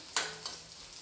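Garlic lightly frying in a pan crackles faintly, with a sharp burst of sizzle and stirring, then a second softer burst, and no talking.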